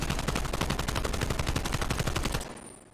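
Sustained rapid automatic fire from an AK-74U in Call of Duty Cold War, a dense, loud, evenly spaced stream of shots lasting over two seconds before cutting off into a short fading tail.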